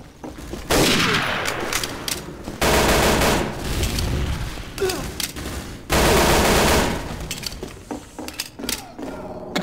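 Machine gun fire from the video game Day of Defeat: Source comes in three long, loud sustained bursts separated by short gaps, with mechanical clinks and faint background game noise between them.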